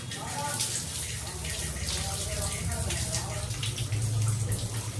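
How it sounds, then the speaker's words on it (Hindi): Tap water runs continuously while hair is washed under it, a dense, steady rushing splash close by with small shifts as the head moves in the stream. "बस टैप वाटर से अपने हेयर वॉश कर लेते हैं जल्दी"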